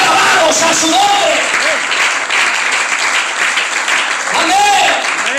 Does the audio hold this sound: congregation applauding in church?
yes